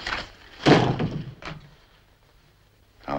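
A door closes indoors with a loud, close thud and a rattling follow-through, then a quieter knock and a short stretch of room tone before another sound begins at the end.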